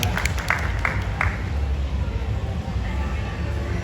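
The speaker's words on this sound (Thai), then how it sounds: "ขอเสียงปรบมือต้อนรับนายกสมาคมบอลไซไทยครับ" An audience at a Thai Bonsai Association gathering applauds to welcome the association's president, a dense wash of clapping with a voice speaking over it.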